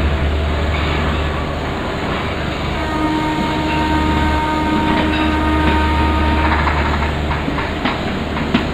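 A simulated Indian Railways train hauled by a WAP-4 electric locomotive of Howrah shed, running on the Howrah to Patna route in MSTS Open Rails, gives a loud continuous rolling rumble with a steady low drone and rhythmic wheel clicks.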